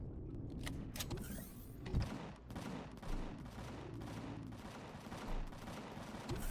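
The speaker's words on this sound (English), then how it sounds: "I think we'll go with the shotgun" Rapid shotgun blasts in the sci-fi survival game Empyrion Galactic Survival, fired during an assault on a Zirax deep space radar complex, sounding as loud, repeated bursts in a quick, uneven rhythm over a dense, rumbling background.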